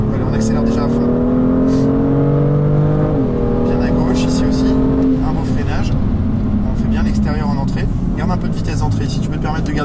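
A BMW is driven flat out on a race track during a driving event. Its engine roars loud and steady, with the pitch rising and dipping through gear changes, while someone talks over it.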